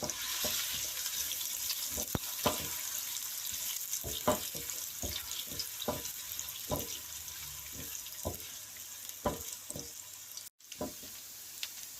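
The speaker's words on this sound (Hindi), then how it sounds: "ओनियन को लाइट ब्राउन करना है।" Onions frying in a pan over a medium flame until light brown, a steady quiet sizzle with scattered soft clicks and stirring taps throughout, no voices.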